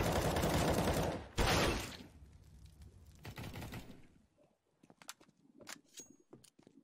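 Gunfire from the Counter-Strike Inferno map during a competitive esports match: loud bursts of rapid automatic fire up front, then scattered single shots, clicks and metallic clanks that taper off, with no voices.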